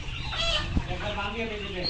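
A flock of layer chickens on a poultry farm clucks in a steady, busy murmur, one hen giving a brief louder call midway through the continuous background chatter.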